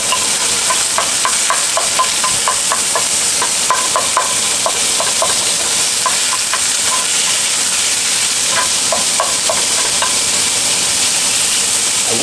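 Spicy Italian sausage and burger meat fry in a pan with a loud, continuous hissing sizzle, punctuated by light rhythmic scraping and taps as the meat is stirred; close and steady, without talk.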